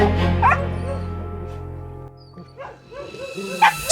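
A dog at a shelter yips, whimpers and barks in uneven bursts, close by, with a long steady hum underneath and quieter stretches between the calls.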